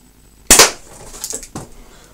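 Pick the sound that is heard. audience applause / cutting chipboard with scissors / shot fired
shot fired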